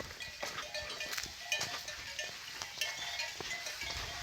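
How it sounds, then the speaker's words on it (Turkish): Goats and sheep bleat in a restless, shifting chorus outdoors as the flock moves downhill in Turkey, with faint clanking and rustling at moderate distance. "Bunlar da keçiler."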